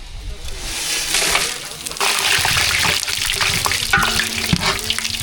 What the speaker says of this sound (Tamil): எண்ணெய் சூடாயிடுச்சு பட்டை வகையெல்லாம் சேர்த்துக்கலாம்